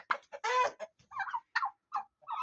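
Chickens kept as poultry on a household farm cluck in a series of short, close calls with brief gaps, one longer squawking burst early on, no talking.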